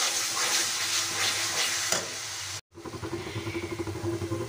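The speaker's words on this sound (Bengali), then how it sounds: "এখন মশলাটাকে আমি আরেকটু ভেজে নেব।" Spice paste with turmeric sizzles and spatters steadily in a pan for an egg curry, with a short break and then rhythmic stirring scrapes, no talking.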